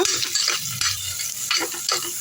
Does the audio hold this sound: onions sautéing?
yes